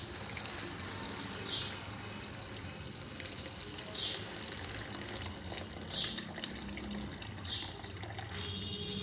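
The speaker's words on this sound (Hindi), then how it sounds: "तकरीबन इसमें 2 गिलास हम पानी डालेंगे" Water is poured into a mint lemonade mix of salt, sugar and black pepper, making a soft, continuous splashing pour with a few brighter splashes, faint and without voices.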